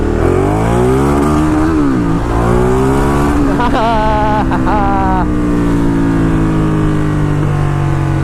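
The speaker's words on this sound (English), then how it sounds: "Now that I spun the tires enough times, the back end just holds and it just pulls the front end up." A Ducati Diavel cruiser motorcycle engine revs hard and loud, its pitch climbing and dipping as the rear tire spins, with a sustained roar throughout and brief chatter near the middle.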